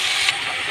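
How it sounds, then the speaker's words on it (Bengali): Freshwater snails go into hot oil with onion and give a loud, continuous hiss and sizzle right up close. The sound is brief and alone. "তেলের মধ্যে গুগলিটা দিয়ে দেব, এই তেলেতেই জলটা মারা হয়ে যাবে।"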